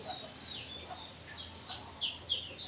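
A hen's drawn-out crowing call rises a few times over a steady farmyard background, with soft clucking mixed in, moderately distant.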